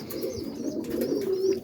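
Boston roller pigeons cooing on a rainy morning: a soft, continuous low throaty coo, close and alone, with faint chirps and rustle behind.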